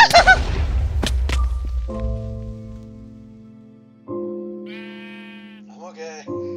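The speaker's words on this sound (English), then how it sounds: "What's up with the sheep?" Sheep in the Minecraft Hexxit modpack give synthetic wavering bleats, a couple of loud clear calls after a brief impact at the start, close and alone over quiet game ambience.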